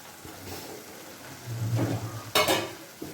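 Egg masala being stirred in a pan over low heat, a soft sizzle with brief scraping and clinking of a spoon against the pan, close and moderately loud.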